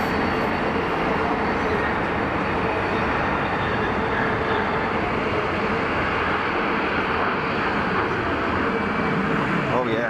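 A Bombardier Global Express jet on its takeoff roll at Geneva Airport, a loud, sustained broadband engine roar that holds steady, heard from a distance.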